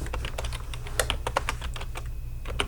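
Rapid keystrokes on a computer keyboard while entering text into an MS Word text box, close and crisp with an uneven rhythm over a low steady hum.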